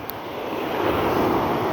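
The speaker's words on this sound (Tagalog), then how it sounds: "Ayan 'yung hampas ng alon sa may buhanginan." Ocean waves wash onto a sandy beach in a continuous broad rush of surf, swelling slightly in the middle, with some wind noise against the microphone and no voices.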